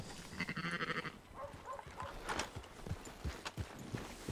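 Sheep being herded in Red Dead Redemption 2, soft bleats and hoof clip-clops from a horse and flock, faint and close, with rustling movement.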